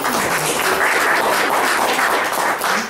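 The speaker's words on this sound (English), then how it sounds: "give them a round of applause" Dense, steady applause fills a county commissioners court meeting room, a continuous wash of many hands clapping at even loudness throughout.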